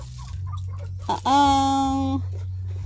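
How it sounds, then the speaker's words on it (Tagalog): Close by, a rooster pecking at feed gives a few soft clucks, then a single loud, drawn-out call over a low steady background hum. "eh di yung tandang ang tumutuka"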